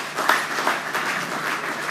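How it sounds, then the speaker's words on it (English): Audience applause at a public presentation of practice licenses, a steady, fairly close wash of many hands clapping with a few louder claps near the start. "can we give another round of applause to"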